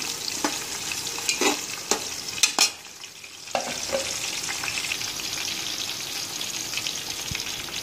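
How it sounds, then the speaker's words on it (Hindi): Potatoes fry in a hot pan for kapsa until browned, a constant close sizzle broken by sharp scraping stirs in the first few seconds, then settling into an even hiss. "फिर आलू को भी ब्राउन होने तक भूनेंगे, थोड़ा उसको दाग लगे तक भूनेंगे।"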